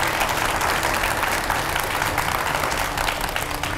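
A studio audience at a televised Hindi debate gives steady, dense applause to welcome a religious guest, a loud, even, continuous clapping with no pauses and no talking.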